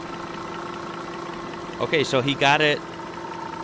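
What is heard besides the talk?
Audi W12 engine idling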